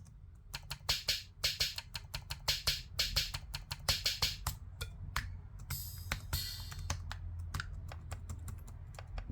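Rapid clicking of keys pressed on an OP-1 synthesizer keyboard with loose keyboard cables, a dense run of crisp close taps under a steady low hum, with no speech.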